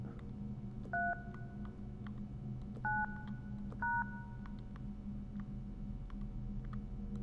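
Three short two-tone telephone keypad beeps from a phone in the horror video game LUTO, spaced about a second apart over a steady low hum, entering a three-digit code.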